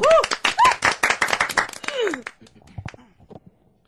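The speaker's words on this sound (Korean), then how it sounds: "박수로 청해드릴게요" Scattered claps ring out among voices and cheering at a live Korean broadcast performance, thinning out and fading to near quiet by the end.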